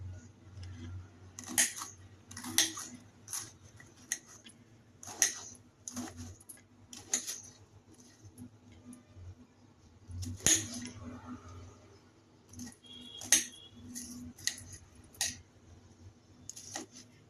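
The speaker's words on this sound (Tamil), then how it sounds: "இந்த மாதிரி நைஸாக கட் பண்ணிக்கணும் கட் பண்ணிக்கிட்டு வரேன்" A knife thinly slices bitter gourd on a board, producing faint, sharp, irregular clicks and taps spaced a second or so apart over quiet room noise.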